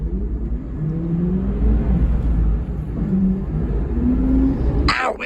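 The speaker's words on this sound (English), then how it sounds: "bit of transmission noise" A 1993 Volvo B9M bus drives along with its transmission whining: steady rising and falling tones over a heavy, constant engine rumble from inside the cabin, ending in a brief metallic clatter.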